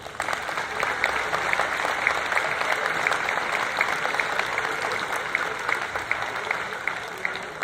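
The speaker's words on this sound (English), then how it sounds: "Please give them a round of applause." Sustained applause from a concert audience at an outdoor Fourth of July symphony performance in central Ohio, a dense, even wash of many hands clapping for several seconds at a steady level.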